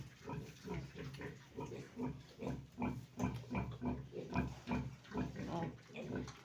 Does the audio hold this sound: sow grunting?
yes